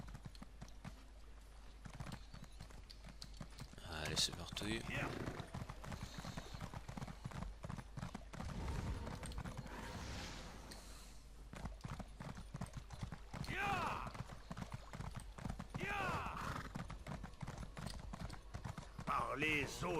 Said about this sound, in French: Bon, on va prendre un cheval.